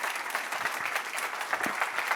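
A small audience at a technology talk gives steady, even applause that fills the whole moment.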